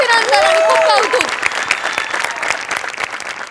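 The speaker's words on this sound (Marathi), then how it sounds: "hair makeup art department costume department सगळ्यांसाठी टाळ्या" An audience bursts into applause for a comedy show's crew, a dense loud clatter of clapping that swells at once and then thins out as it fades, with a voice briefly heard at the start.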